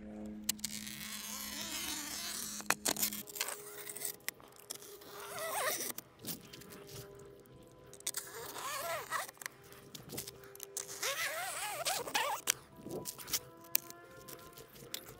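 Fine screen mesh is cut to build a small crayfish trap, a continuous close scratchy crunching and tearing that runs steadily, with no talk.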